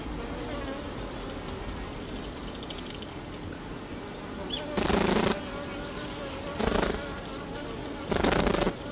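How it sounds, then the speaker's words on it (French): Japanese bees vibrating their wings, a close steady buzzing drone with three louder, broadband bursts of wing whirring a couple of seconds apart toward the end, no talk. "elles communiquent entre elles en utilisant le son produit par les vibrations de leurs ailes"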